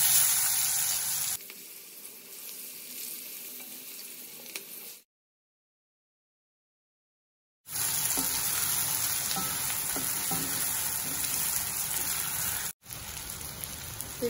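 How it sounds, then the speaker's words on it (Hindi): Jackfruit pieces sizzle steadily in hot rice bran oil in a kadhai, a dense continuous frying hiss with light stirring, cut off by a few seconds of silence partway through before the sizzle resumes. "इसे 3-4 मिनट भूनने के बाद कटहल हमारा एकदम फ्राई हो चुका है बढ़िया से।"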